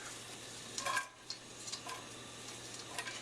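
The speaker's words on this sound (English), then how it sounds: "get the onion sauteing" Chopped onions sauté in olive oil in a pan, with faint, soft sizzling under quiet stirring scrapes and light utensil taps against the pan.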